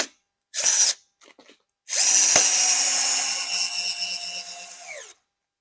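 A power drill drives screws through hinges fastening a table frame to its base, first a short whirring burst, then a few faint taps, then a longer close run of about three seconds that winds down and stops.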